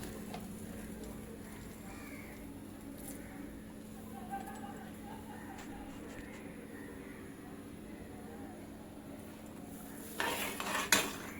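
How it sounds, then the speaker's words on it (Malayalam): Semolina upma is stirred in a pot on a stove, with soft scraping under a steady kitchen hum, then a burst of metal utensil clatter against the pot near the end. "നല്ലവണ്ണം ഇളക്കിയതിന് ശേഷം"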